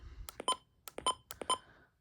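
Button beeps from a weather radio's keypad, a quick series of short electronic chirps in three small clusters as buttons are pressed, fairly faint and close, with soft handling clicks between.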